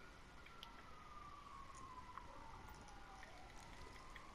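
Police sirens in the video game GTA 5 Online, a faint wailing tone sweeping slowly downward against steady background game noise, distant and quiet throughout.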